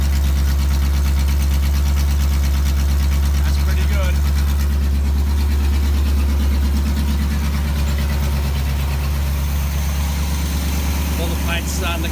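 A Holden HZ car engine idles steadily and a little high, with a newly fitted exhaust giving a deep, continuous rumble that is loud and close throughout, while someone talks over it.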